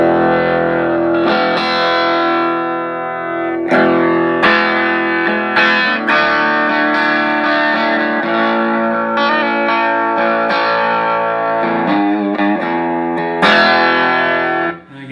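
Electric guitar played through a Vox AC4C1-12 tube amp fitted with a Rola speaker, ringing loud, sustained chords and notes with a crunchy overdriven edge, played alone without talk.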